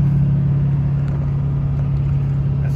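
A steady low engine drone and road rumble fill a car cabin as it cruises along a highway, constant and close with no talk.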